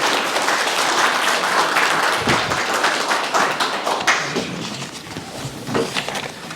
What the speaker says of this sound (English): Ladies and gentlemen, another round of applause for Ms.